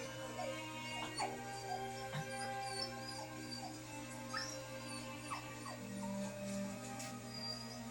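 A dog whimpering in a Naruto Shippuden anime scene, thin high whines recurring softly over steady background music and ambience.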